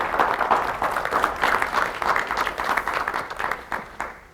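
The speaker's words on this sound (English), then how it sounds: "You can clap now." Steady applause and clapping from a colloquium audience, a full round of many hands at moderate volume that carries on evenly for several seconds before tapering slightly.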